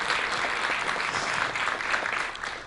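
An audience claps steadily in a lecture hall, a dense, even wash of applause that holds at full strength and tapers slightly at the end.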